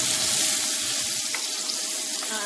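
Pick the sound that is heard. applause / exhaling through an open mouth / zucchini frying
zucchini frying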